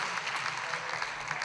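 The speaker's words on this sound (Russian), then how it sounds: "Ваши аплодисменты!" Audience applause at the Miss CIS 2022 beauty pageant, a dense continuous burst of clapping from a large crowd at steady loudness.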